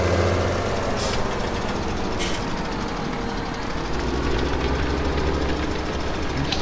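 A Claas Xerion VC tractor disking a field in Farming Simulator 2017 gives a steady, loud engine drone with a low rumble throughout, joined by two brief hissing bursts.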